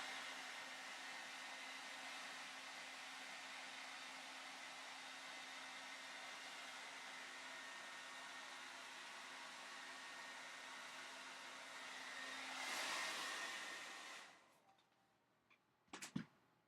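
A heat gun shrinks the covering on a model Nieuport aircraft with a steady, moderate blowing hiss that swells briefly near the end and then cuts off, followed by a few sharp clicks.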